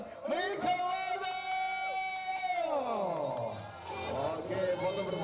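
A small crowd at the trophy ceremony of a 50cc beginner pocket bike race cheers the winner, with raised, sustained shouts and whoops rising and falling close by over several seconds.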